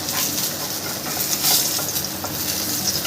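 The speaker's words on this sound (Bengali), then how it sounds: "তেল ভালো করে গরম হয়েছে, মাছটা আমি এবার ভেজে নেব।" Tilapia fish frying in hot mustard oil in a wok, a loud, dense, continuous close-up sizzle and crackle with faint utensil clinks, no voices.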